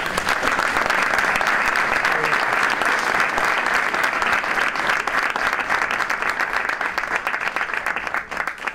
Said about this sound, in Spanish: Un aplauso para este dúo.